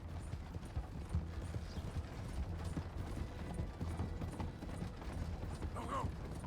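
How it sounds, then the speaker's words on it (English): Horse hooves clip-clop steadily in a video game as the animal hauls a coach along at a brisk, even pace, with mechanical rattling and a faint voice underneath. "Sorry, you ain't getting away from this horse."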